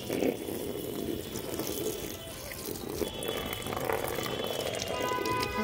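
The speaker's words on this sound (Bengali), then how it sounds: "তারপর এটাকে দেখো সার্ফ জল দিয়ে ভালো করে এখন ধুয়ে নিচ্ছি।" Tap water runs steadily into a sink while a bag is washed in detergent water, a continuous close splashing and rushing with no speech.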